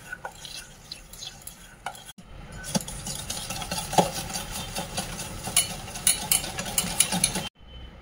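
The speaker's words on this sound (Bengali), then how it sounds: "এখন এটাকে ভালো করে মিক্স করে নেবো।" A spoon stirs sugar, oil and yogurt together for a cake batter in a bowl, giving a steady, close scraping and swishing rhythm with occasional clinks, briefly pausing midway and ending abruptly.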